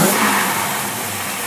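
A car engine fitted with a Holley longhorn carburetor revs up close and loud, a sustained throaty roar that swells at the start and then holds steady.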